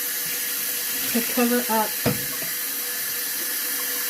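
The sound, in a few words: hot tap water running from faucet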